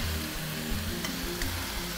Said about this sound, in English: We're going to cook the cabbage until it's nice and brown.